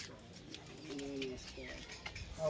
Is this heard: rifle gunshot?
no